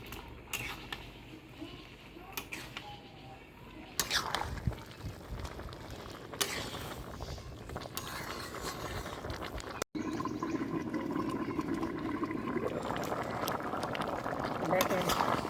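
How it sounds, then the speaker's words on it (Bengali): A covered pot of lentils with jackfruit seeds and potatoes bubbling as it boils, a soft steady simmer that grows fuller and louder toward the end, with someone talking over it. "ঢেকে দিলাম সেদ্ধ হওয়ার জন্য।"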